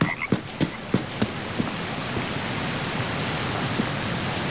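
A blue frog in the jungle of the game Green Hell croaks in a quick run of short clicking calls that fade out, leaving steady hissing rainforest ambience.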